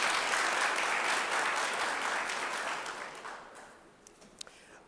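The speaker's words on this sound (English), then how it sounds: "would you please give them a round of applause?" A crowd at a teacher-program launch event gives a warm round of applause that stays dense at first, then thins and fades to a few scattered claps near the end.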